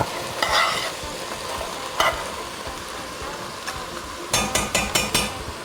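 Soaked red beans stirred in a pot for New Orleans red beans and rice, a steady wet sizzling bed broken by a few scraping strokes and a closing run of five quick metallic knocks against the pot, close up with no talking.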